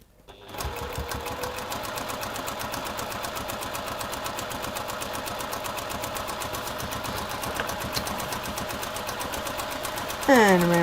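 A sewing machine stitches a curved seam with a steady, rapid mechanical chatter that runs continuously at close range, stopping briefly near the end.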